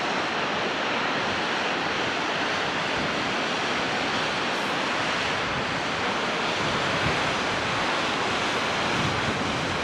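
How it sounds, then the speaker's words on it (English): A waterfall in Iceland rushing in a steady, dense roar that fills the whole stretch without pause, loud and close, with no voices over it. "I actually just really like the ASMR of the waterfall."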